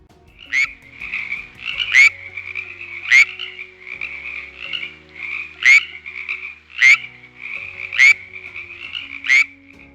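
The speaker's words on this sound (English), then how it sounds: "It's a frog." A frog croaking in an animal sounds quiz, a series of about eight sharp, raspy calls at a steady rhythm over a faint background tone, clear and close.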